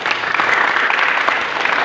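A church congregation claps together in a brief, dense burst of hand-clapping that stays loud and busy from start to finish.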